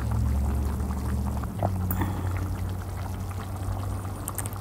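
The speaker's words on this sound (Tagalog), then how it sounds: "Dadagdagan ko pa ng tubig." Water is poured into a simmering pot of sinigang na bangus, a steady liquid rush at moderate level over a low kitchen hum, with no talking.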